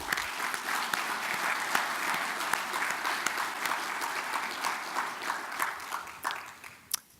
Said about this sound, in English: please join me in a round of applause for all these dedicated workers here